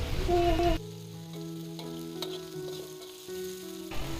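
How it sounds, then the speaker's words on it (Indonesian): Shallots and garlic sauté in a wok with a continuous crackling sizzle, fairly close and steady, while a stirring utensil scrapes now and then; a short burst of sound opens the clip. "Kita gongso atau kita tumis hingga layu dan harum."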